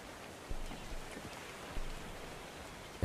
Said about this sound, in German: Draußen regnet es.